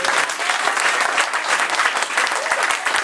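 Dense, steady applause from a church congregation during a French-language worship service, many hands clapping together loudly and continuously throughout, with no break.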